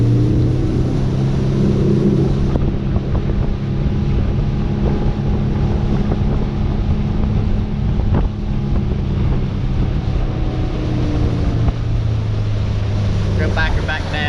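A Mercury four-stroke outboard drives a motorboat at 3,500 RPM, a loud steady engine drone with water rush and heavy wind buffeting on the microphone, while people talk over it.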